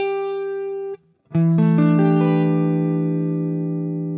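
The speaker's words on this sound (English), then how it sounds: "now what we end up with is this stack of 4th intervals, which gives us that kind of suspended sound" A single guitar note rings, then after a short gap a jazz guitar chord stacked in fourths is strummed, its notes rolling in with a suspended sound and sustaining loudly as they slowly fade.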